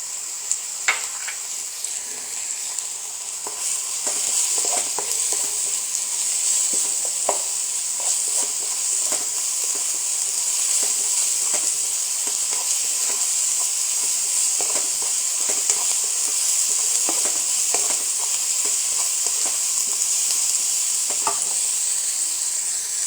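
Sliced onion softened with ginger garlic paste sizzles steadily in a pan for a beef khatti roll filling, a constant close frying hiss broken by occasional stirring scrapes.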